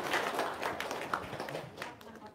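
A small group clapping hands at an informal gathering: scattered, uneven claps, fairly faint, mixed with people talking.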